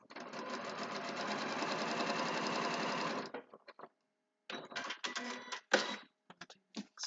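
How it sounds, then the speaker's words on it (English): A sewing machine stitches through seam allowances on a foundation-pieced spool-of-thread quilt block, a steady close run of rapid ticking that stops, followed by several short, uneven bursts. "I'm sewing again through those seam allowances"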